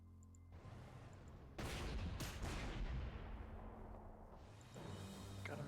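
Artillery fire in the strategy game Panzer Corps 2: a heavy booming burst of shots lands around midway, then rumbles and dies down, followed by a softer thump near the end.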